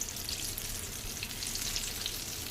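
Purnam burelu fry in hot oil in a pan, a steady close sizzling hiss with light bubbling crackle and no voices.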